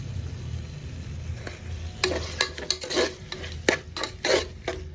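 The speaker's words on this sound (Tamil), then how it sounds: "இதையும் நல்லா வதக்கிக்கலாம்." A spatula stirs and scrapes food in a hot pan with a steady sizzle beneath, the scraping strokes growing sharper and more frequent after the first couple of seconds, close up with no talking.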